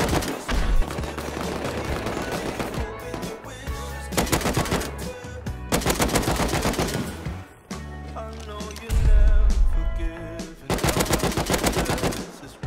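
AK rifle fire in the survival game Rust during a raid: loud bursts of rapid automatic gunfire repeat across the clip, with short pauses between them and faint voices underneath.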